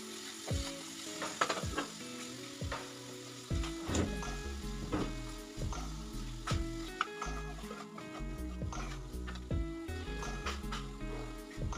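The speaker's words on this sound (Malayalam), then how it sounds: "തേങ്ങ കൊത്തി ഇത്തിരി വറുക്കണം കേട്ടോ" Chopped coconut pieces fry in a pan with spices for a Kerala-style koorka and fish dish, a steady sizzle broken by repeated scraping and stirring knocks of a spoon against the pan, close and busy throughout.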